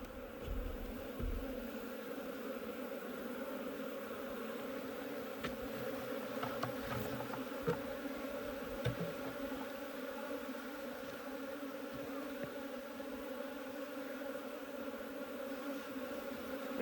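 A dense swarm of honey bees buzzes steadily in close, loud drones as frames are shaken during a removal from a shed floor, with a few sharp knocks and bumps scattered through the hum.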